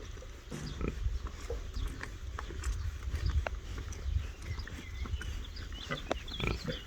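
Pigs grunt and snuffle steadily at close range, with scattered clatter and shuffling of animals moving around. No one speaks.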